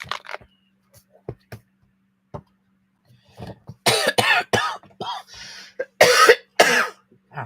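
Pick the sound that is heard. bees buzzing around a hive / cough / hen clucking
cough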